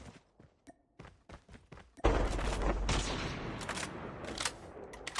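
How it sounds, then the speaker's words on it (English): Gunfire in a competitive first-person shooter match: a series of separated single shots, then a loud sustained burst of rapid automatic fire with close impacts that continues to the end. "Zombie Dog getting shot at"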